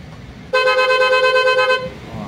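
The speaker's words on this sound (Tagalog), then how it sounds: "Busina mo nga" A Lambretta scooter's horn sounds one steady, bright, buzzy toot lasting about a second and a quarter, loud and close, with quiet background noise before and after.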